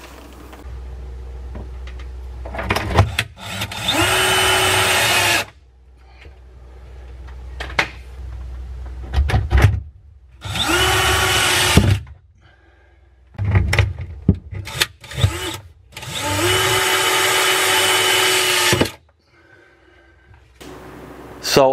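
A power drill drives screws into the top of a homemade kitchen island in several loud, close runs of a few seconds each, the motor whine rising and falling, separated by pauses and handling knocks.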